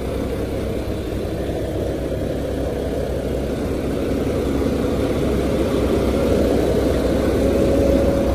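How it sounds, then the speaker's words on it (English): A 2013 Mack Pinnacle CXU613 truck with a 445 Mack MP8 engine and dual exhaust idles with a steady, low diesel rumble close by, slightly swelling toward the end, without voices. "445 Mach MP8 engine."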